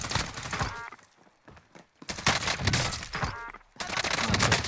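Bursts of close gunshots crack in a Call of Duty: Warzone match, in loud clustered volleys with a short lull between them.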